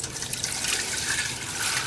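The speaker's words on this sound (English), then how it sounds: "So now I'm going to pour the ghee that we took out back into the ghee pan." Melted ghee pours back into a pan, giving a steady liquid trickle and splash that holds throughout at moderate loudness.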